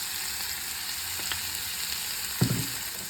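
Onions and cumin seeds sautéing in hot oil, a steady broadband sizzle throughout with a brief louder clatter of stirring near the end, close and alone without voices.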